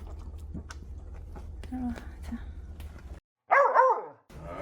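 A puppy whines and yelps close by in a short high burst after a stretch of quieter shuffling and soft noises, with people talking nearby around it.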